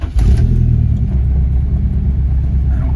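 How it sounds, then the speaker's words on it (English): A Honda Civic EK fitted with a turbocharged K24 engine catches and settles into a steady, loud, low idle rumble right after starting, the running close by and continuous. "after cleaning the idle motor, the car starts normally"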